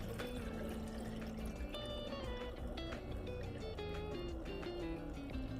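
Dechlorinated water poured into a brine shrimp hatchery, a steady continuous splashing and trickling that runs close and unbroken throughout, with no talk over it.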